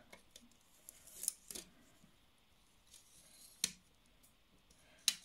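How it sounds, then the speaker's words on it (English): Sparse, crisp snips of scissors cutting a thin aluminium drinks can, a handful of quiet isolated cuts with pauses between them. "you can just use your scissors to"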